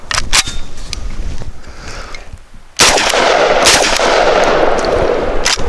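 An AWS Spets 12 shotgun fires Federal Trueball low recoil 1 ounce slugs from a 5-round magazine, with several loud sharp blasts spaced irregularly and a big shot near the middle followed by a sustained noisy wash.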